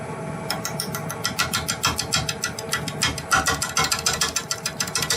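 A wood lathe spins a pine log at 400 RPM, giving a steady mechanical whir with rapid rhythmic clicking pulses throughout, close and fairly loud.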